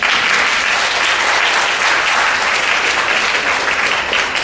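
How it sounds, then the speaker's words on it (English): Sustained applause from a conference audience honoring a guest professor, dense and even throughout, loud and close with no pauses or voices above it. "And a big round of applause."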